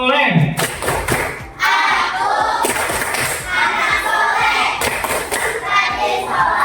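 A fifth-grade Islamic studies class of children performs the tepuk anak soleh clapping chant, steady rhythmic hand claps and thuds mixed with loud group chanting close by.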